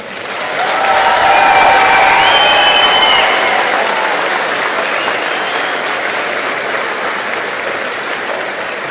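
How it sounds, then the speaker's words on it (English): A graduation audience claps in a long, full round of applause that swells within the first couple of seconds, with a few whistles riding on top early on, then settles into an even, sustained roar. "let's give them one more round of applause"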